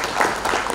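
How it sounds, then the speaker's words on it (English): Brief burst of audience applause for panelists at an energy-for-health conference session, a short dense patter of clapping in a hall. "A big round of applause,"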